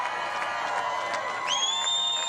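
A large crowd at a presidential political rally in Mosinee, Wisconsin roars in a dense, sustained wash of cheering and whistles, with a shrill whistle rising near the end.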